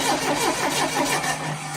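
A Triumph TR7 engine cranks over and over without catching, a loud, close, rhythmic churning of the starter that runs without a break.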